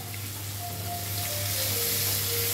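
Cumin and chili paste fry in a pan with a continuous close sizzle and hiss that holds steady for a brief moment.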